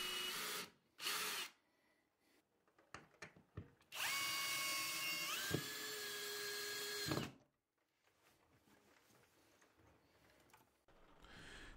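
A power drill drives screws to fix a wooden shelf bracket to a wall, a loud whirring burst of about three seconds with a pitch shift, framed by clicks and handling knocks, close and without talk.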